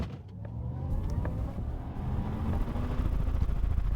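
A 2026 Chevrolet Blazer EV SS accelerating hard at full power, a rising electric motor whir building steadily with growing road and tire roar from inside the cabin.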